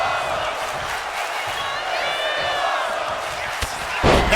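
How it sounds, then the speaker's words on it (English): Video game wrestling match crowd, a steady roar of cheering throughout, with a sharp impact near the end and the noise swelling louder afterward. "And the crowd into it already in the early going."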